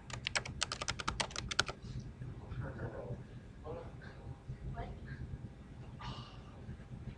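A rapid burst of keystrokes clatters on a computer keyboard, close and crisp, then fades into a few scattered taps under faint background sounds.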